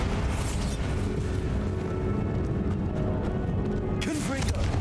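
A Bombarda spell explosion in the Hogwarts Legacy video game, heavy rumbling blasts over a dense game soundscape, with a sharp burst near the end.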